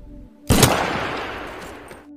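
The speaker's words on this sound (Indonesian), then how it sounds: "Salah satu teman Yuri bernama Jason menembak William dengan snipernya." A single loud gunshot from a sniper rifle in a war film, a sharp crack followed by a long, rumbling boom that slowly decays over about a second and a half.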